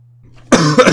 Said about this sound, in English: So if I do cough quite a lot during this video, I do apologize.